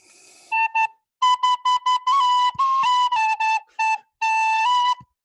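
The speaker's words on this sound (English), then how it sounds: "No, it's a tin whistle." A tin whistle plays a lively tune at a Renaissance-fair feel, with bright, clear notes in short phrases and breaks between runs, solo and close.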